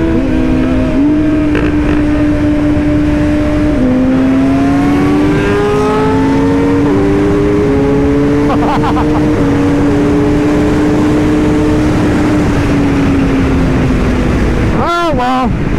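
A 2023 BMW S 1000 RR motorcycle engine screams loudly at high speed, its steady pitch stepping up through gears against heavy wind rush, ending in a sharp rev sweep.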